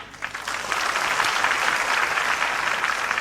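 An audience bursts into applause, a dense burst of clapping that builds quickly and holds steady, loud and close, with no talk over it.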